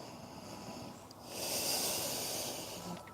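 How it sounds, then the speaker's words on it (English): Slow, deep breathing during a yoga pose, soft and close, a long airy exhale swelling in the middle and fading out, with no talking. "Take long, deep breaths."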